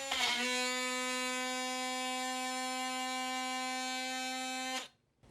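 A Dewalt oscillating tool cuts under heavy pressure with a steady, strained buzzing drone held for about five seconds before it stops abruptly.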